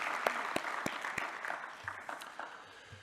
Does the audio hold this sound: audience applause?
yes